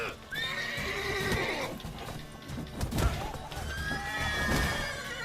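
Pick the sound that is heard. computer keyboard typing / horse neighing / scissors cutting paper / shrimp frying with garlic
horse neighing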